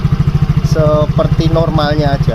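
A motorcycle engine idles with no throttle applied, its steady low pulsing running throughout, close and fairly loud beneath someone speaking.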